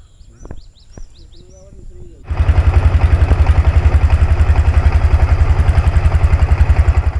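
Diesel engine of a trawler boat on the way to Nijhum Dwip starts up loud and close, a steady fast-thumping rumble that drones on alone after a few quiet seconds with faint voices and bird-like calls.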